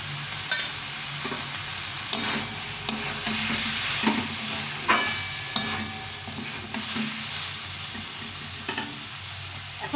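Cauliflower and peas sautéing in a pan for a cauliflower and chhana curry, with a steady sizzle broken by repeated close scrapes and clatters of a spatula stirring, and no voices.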